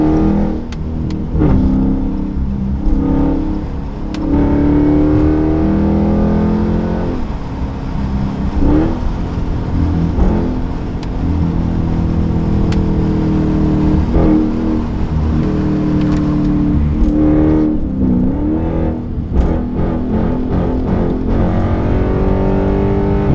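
A Dodge Scat Pack 392 driven late at night revs and accelerates repeatedly, its V8 engine roaring loud and close from inside the car, with rising and falling pitch as it shifts through gears.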